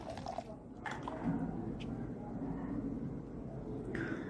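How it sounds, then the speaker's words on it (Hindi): Water is poured into a pot holding onion peels, making a steady, close splashing and filling rush that continues evenly throughout. "और उसमें पानी डाल देंगे।"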